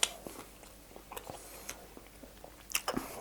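Someone bites into and chews a crunchy burger topped with Carolina Reaper peanuts and cheese, giving a few sharp, close crunches scattered among quieter mouth noises, with no talking.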